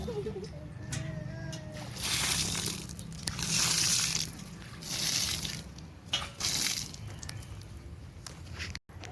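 Water splashes and sloshes in bursts as it is poured onto plants in the ground, with quiet gaps between pours and faint background noise.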